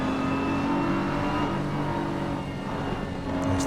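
BMW and Audi race cars circulating at Suzuka, a steady loud engine drone with a constant pitched tone that holds throughout without a clear pass-by.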